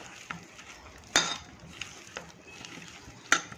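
Besan being stirred into a mashed potato masala mixture in a pot, with soft scraping strokes and a few sharp spoon clinks on the rim, close and distinct over quiet sizzling, no voices.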